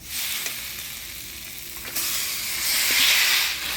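Raw mutton drops into a hot pan of garlic, chili paste, turmeric and salt, setting off a loud hissing sizzle that dips briefly and then swells back up, with the occasional scrape of stirring.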